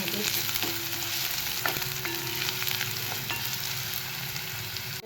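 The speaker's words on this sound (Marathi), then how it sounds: "आपला कांदा परतायला थोडं मीठ घालून घे" Onion sautéing in a pan with salt, a steady close hiss and crackle of frying throughout, with light stirring scrapes now and then.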